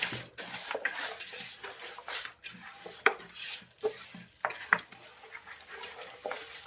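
Chicken biryani being stirred in a pot after lemon juice is added, soft irregular scraping and rubbing strokes with occasional light clinks against the vessel, fairly quiet.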